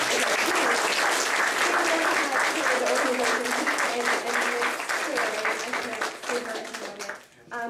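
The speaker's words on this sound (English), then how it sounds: "let's give him another round of applause" An audience applauds an instrumental member of a mission flight organization, sustained clapping with some voices mixed in that fades toward the end.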